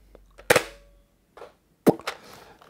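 A Nerf Elite Barrel Break toy blaster fires two sharp, loud pops about 1.4 seconds apart, each trailed by a brief rattle, with faint handling noise in between.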